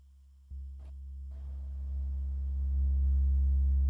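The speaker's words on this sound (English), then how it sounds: "A sine wave, beautiful." A modular synthesizer oscillator puts out a steady sine tone, starting abruptly after a brief silence and swelling gradually louder as it holds, with a couple of faint clicks near the start.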